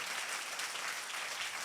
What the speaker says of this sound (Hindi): जोरदार तालियां अगर खुदा के लिए बजाना चाहते हैं